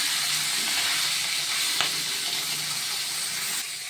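Two heads of garlic sizzle in hot oil in a wok, a steady, close, broadband crackle and hiss with one brief louder pop partway through and no talking.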